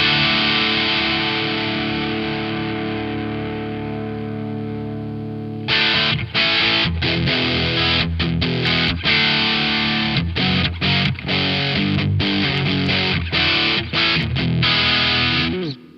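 An electric guitar is played through a distortion pedal and an IR pedal, loud and crunchy: a long sustained chord decays, then a run of rapid, driven staccato chords and riffs follows.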